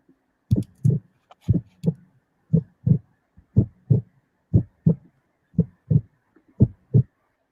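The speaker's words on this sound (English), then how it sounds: "So on the timer to give like a countdown, I added like a heartbeat." Heartbeat sound effect added to a livestream countdown timer: paired lub-dub thumps repeating at an even, steady pace, loud and clear against silence.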